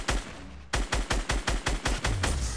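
Rapid bursts of gunfire in the Fortnite battle royale video game, about nine loud, evenly spaced shots in quick succession with no talk.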